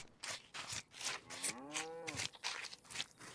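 A cow in the DayZ video game gives one loud, drawn-out moo from close by, set among bursts of busy game noise.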